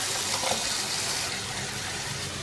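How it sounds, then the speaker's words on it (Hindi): Half a cup of water poured into a pan of cooking keema, a steady rushing splash and sizzle that runs continuously at close range with no voices. "आधी प्याली पानी की शामिल कर देंगे।"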